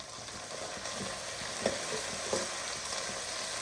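Shallots and onions sauté in a pan for a radish sambar, a steady low sizzle running throughout with a couple of soft stirring scrapes, moderately quiet and with no voices.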